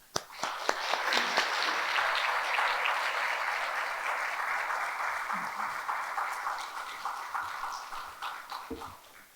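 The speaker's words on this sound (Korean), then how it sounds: "환영하는 마음으로 우리 박수로 환영하시겠습니다" Congregation applause welcoming a pastor in a Korean church service, opening with a few scattered claps, then swelling into sustained, fairly quiet clapping that slowly fades toward the end.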